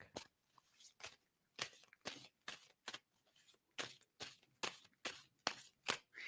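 Playing cards being shuffled by hand, a dozen or so sharp riffling bursts in a steady rhythm, close and crisp with near silence between.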